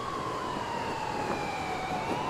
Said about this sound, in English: look at the ambulances. It's going towards the building.